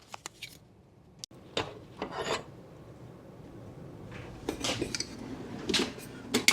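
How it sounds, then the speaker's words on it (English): A hand saw cuts small sample pieces from ABS car interior plastic, with short, near rasping strokes coming in separate bursts between quiet pauses. "a saw is going to give me a little bit more control"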